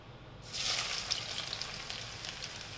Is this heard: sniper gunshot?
no